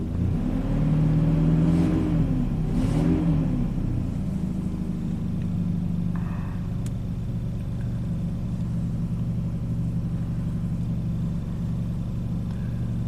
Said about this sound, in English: I'll rev it up a little bit